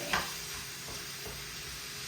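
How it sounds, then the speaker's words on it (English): Quinoa simmering in a pan on a home stove gives a steady soft bubbling hiss, with one brief clink near the start and no voices. "our quinoa's boiling pretty good"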